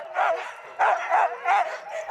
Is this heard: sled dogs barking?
yes